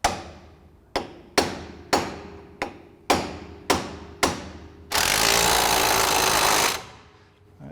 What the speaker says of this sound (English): I'm going to try to tap it on with a big socket.